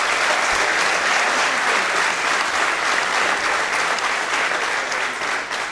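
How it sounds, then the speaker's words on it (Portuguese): A corporate talk audience gives a round of applause for Gonçalo, a dense, even wash of many hands clapping that holds steady throughout with no voices on top. "gostava que dessem uma salva de palmas ao Gonçalo"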